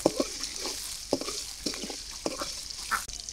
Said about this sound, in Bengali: কড়াইতে তেল দিয়ে দিলাম, পেঁয়াজ কুচি দিয়ে দিলাম